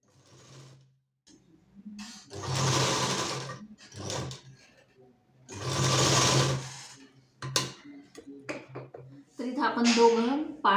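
Sewing machine stitching lace onto a belt blouse, running in two long steady whirring bursts with short stops and clicks between, close and moderately loud, with someone talking softly in between.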